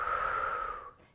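A single breathy exhale during a stability ball workout, close and soft, fading out after about a second.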